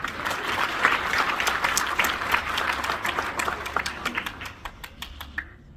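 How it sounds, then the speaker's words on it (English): An audience at a magic and music variety show breaks into a round of applause, dense clapping from many hands that thins to a few scattered claps before fading out. "A round of applause."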